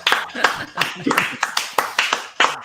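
A small audience claps after a live song, the hand claps coming as distinct, uneven bursts close by, with voices talking over them.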